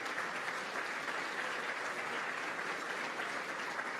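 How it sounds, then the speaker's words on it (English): Audience at a business chamber annual breakfast gives a round of applause, an even, continuous wash of many hands clapping at moderate distance with no talk over it. "Please give them a round of applause."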